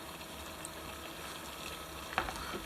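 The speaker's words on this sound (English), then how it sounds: "So we've just got a boil." Water coming to a boil in a Stanley Adventure two-cup cookset pot over a methylated spirits burner, a faint, steady rolling hiss with one brief clink near the end.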